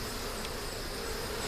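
Honeybees hum steadily at an open hive where larvae and grubs are exposed in the comb, a continuous, dense buzzing with no voices.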